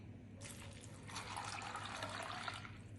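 Water is poured from a glass into a cup of grains set to soak, a faint continuous splashing pour lasting a couple of seconds.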